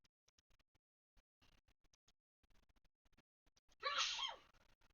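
One abrupt, close sneeze bursts out after a few seconds of faint clicking and rustling in a quiet room.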